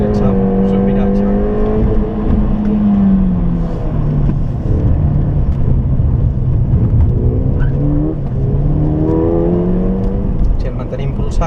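A Ford Fiesta ST200 engine revs and pulls under throttle at Can Padró, rising and falling in pitch as the driver works the gas, with someone talking over the engine throughout.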